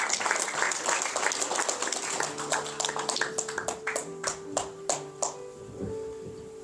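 An audience at the 50th anniversary ceremony of the Syngman Rhee Founding President Memorial Society claps to welcome Governor Kim Jin-tae, a burst of applause that thins into scattered individual claps while tones sound behind it.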